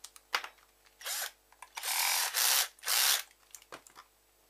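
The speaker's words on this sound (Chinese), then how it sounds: "这个螺丝很紧啊，" A screwdriver works loose a tight screw during the teardown of a Razer Taipan mouse: a few short whirring bursts, the longest lasting about half a second, broken by small clicks and quiet gaps.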